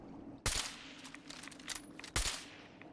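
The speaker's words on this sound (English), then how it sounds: "That's how long it takes to shoot normally." Two loud, close gunshots from a weapon in Fallout 4, sharp broadband cracks spaced about two seconds apart, each trailing off with echo over a low steady game ambience.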